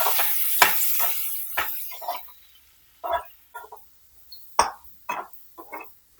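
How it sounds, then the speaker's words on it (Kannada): Chopped mushrooms frying with turmeric powder in a pan, a series of short, sharp sizzling bursts and spatters separated by quiet gaps, close and fairly loud. "ಇವಾಗ ಇದಕ್ಕೆ ಸ್ವಲ್ಪ ಅರಿಶಿನ ಪುಡಿನ ಸೇರಿಸಿ ಹುರ್ಕೊಳ್ಳಿ"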